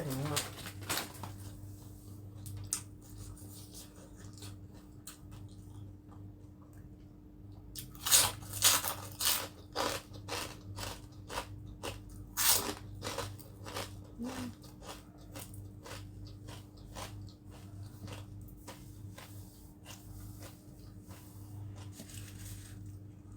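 Crispy pork cracklings crunched in a quick burst of sharp, close bites over a steady low background hum, with talk nearby.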